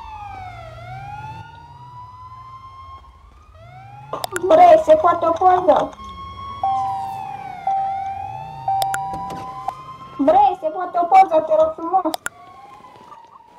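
A wailing police siren in the video game FiveM rises and falls continuously, loud and close, while people talk and shout over it in bursts.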